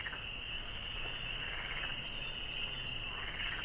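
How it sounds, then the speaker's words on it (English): Dense, steady cricket chirring fills woods at dusk in a continuous pulsing drone, with a faint low chorus of frogs, no voices present. "All you can hear is frogs and crickets in the woods"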